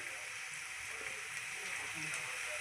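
Onions frying in oil in a pan with occasional stirring, a steady soft sizzle throughout at low volume, no voice over it.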